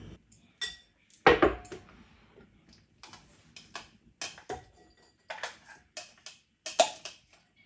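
A knife chops cabbage into smaller chunks on a cutting board, giving irregular close, crisp taps and thuds with short pauses between strokes, one louder whack early on.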